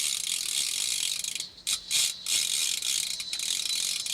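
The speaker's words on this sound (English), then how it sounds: "He's taking line like you wouldn't believe." Fishing reel drag clicking in a rapid, continuous ratchet as a fish pulls out line during ice fishing, steady and close, with a couple of brief dips partway through and no talking.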